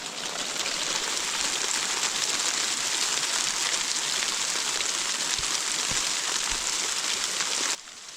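Hail pours steadily onto the ground of a high mountain meadow, a dense, loud, continuous rattle and hiss that keeps the same intensity throughout and drops off suddenly near the end.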